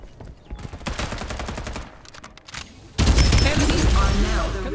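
Gunfire in the Farlight 84 mobile battle royale game during a squad end-game fight: bursts of rapid automatic shots with short gaps, followed by a louder, denser barrage of fire and impacts, all close and intense.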